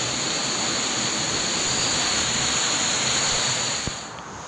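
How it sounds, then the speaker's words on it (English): A waterfall at an eco park in the Philippines gives a steady, moderately loud rushing roar that continues without change, with no talking. "with the nice sound of the waterfall in the background"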